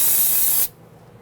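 A steady spray of cleaner from a spray can hisses for just over half a second during rear brake hose work on a Nissan Quest, then cuts off abruptly, leaving quiet room tone.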